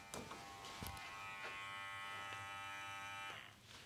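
An electric dog clipper fitted with a Kenji Flash 5 blade runs freshly oiled, a close, steady motor buzz with a few clicks at the start that cuts off near the end.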